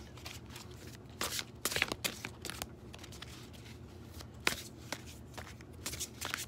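Tarot cards are shuffled close up in quick papery riffles and soft slaps, irregular bursts over a low background hum.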